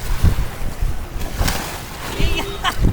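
Water sloshes and splashes around a moving boat at Nikli, Bangladesh, with wind buffeting the microphone and a low engine-like rumble underneath.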